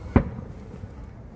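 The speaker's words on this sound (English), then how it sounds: "So, you guys can see the fireworks." Firework bursting, one sharp boom close by, followed by a short, low rumble that fades out.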